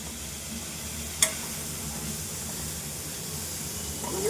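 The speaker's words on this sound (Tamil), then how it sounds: "பாருங்க வதங்கணும், நல்லா வதங்கிச்சு, கம்மியாகிடுச்சு பாருங்க" Onions sautéing in a pan give a steady, moderately quiet frying hiss that holds evenly throughout, broken once by a brief utensil click.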